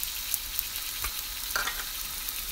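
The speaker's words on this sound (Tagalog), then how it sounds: "Nagagisa po ako ng onion." Chopped onion sautéing in hot oil in a pan before noodles are added, a steady close sizzle with faint crackles and occasional light stirring scrapes.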